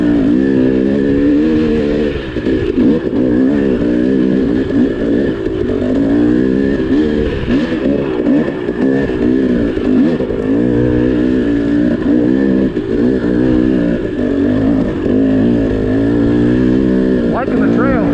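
TPI two-stroke dirt bike ridden on a forest trail with exposed roots in Gifford Pinchot National Forest. The engine roars loudly and continuously up close, rising and falling with the throttle, while the rider talks over it throughout.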